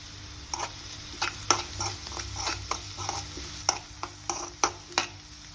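A spoon scrapes repeatedly through potato filling with turmeric and salt in a pan, sharp irregular strokes over a steady low sizzle, close and clear with no talking.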